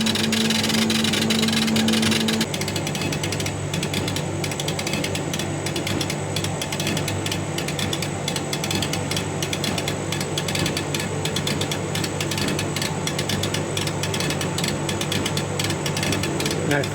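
Laser engraver etching glass at about 52 watts runs in a steady, dense mechanical whir with fast rhythmic ticking from the moving head, continuous and close throughout, after a brief tone at the start.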